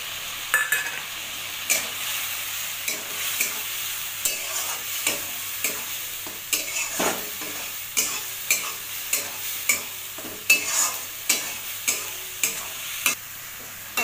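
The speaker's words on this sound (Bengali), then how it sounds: "ভালোভাবে মশলাটাকে কষাতে হবে।" Ground spice masala of cumin, chilli, coriander and turmeric stirred and fried in a pan, with a steady sizzle under regular scraping strokes of the spoon, close and fairly loud, no voices.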